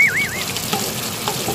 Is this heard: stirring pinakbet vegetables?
yes